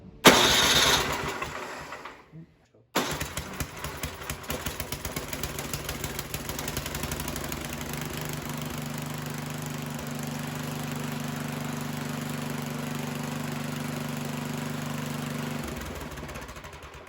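A snowblower engine is cranked with the electric start button at three-quarter throttle with a little choke. After a short electric whir and a pause, it sputters to life and settles into a loud, steady, rumbling idle that eases off at the end.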